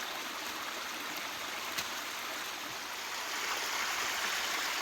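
A forest stream in wet, remote mountain woodland in Thailand flows with a steady, even rushing hiss that swells slightly toward the end, with no voices.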